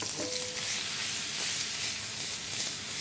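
Garlic and onion sizzle in hot oil over high heat, a steady close hiss and crackle that runs unbroken, with a brief faint tonal squeak near the start.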